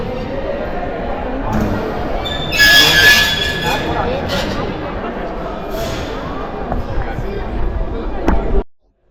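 A passenger train pulls into a station near Nashik with a loud, continuous rumble of wheels on rails and a sharp metallic squeal partway through. Voices murmur in the background before the sound cuts off abruptly.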